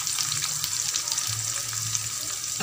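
Shallots and green chillies sauté in a pan for a Tamil empty salna, with a steady, moderately quiet sizzle and crackle throughout and no speech.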